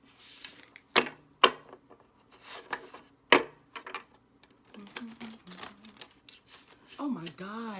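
Tarot cards being shuffled by hand in a series of short, crisp riffling bursts and soft rubbing sounds, near and moderately quiet, with a voice speaking briefly toward the end.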